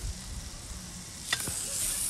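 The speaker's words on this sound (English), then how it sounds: "Oh, got a bit of a sizzle going on there." A pineapple slice hits the hot plate of a Cadac Safari Chef 2 BBQ and sizzles with a soft, continuous crackle. A short sharper scrape comes partway through.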